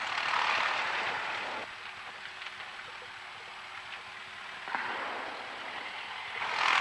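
A light aircraft's propeller engine drones steadily while taxiing toward the run-up area for runway 30, loud throughout with a brief surge midway and a rise in power at the end.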